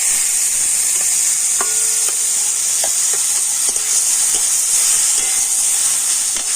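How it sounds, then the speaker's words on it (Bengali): Whole cumin and grated raw mango fry in hot oil with a steady loud sizzle and hiss, while a utensil gives scattered scraping clicks as it stirs the pan. "তো জিরেটা একটু লাল করে ভেজে নিয়ে আর দিয়ে দিচ্ছি গ্রেট করে রাখা আম"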